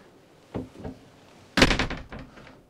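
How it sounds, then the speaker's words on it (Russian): The toilet door of a three-axle Dethleffs motorhome is closed: a light knock comes first, then a louder, solid thunk a second later, both close and with no talk. "Дверь закрывается, также перекрывает пространство."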